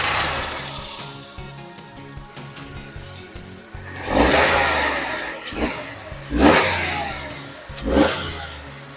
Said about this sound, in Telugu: చూసారు కదా, పెట్రోల్ ఇంజిన్ అండి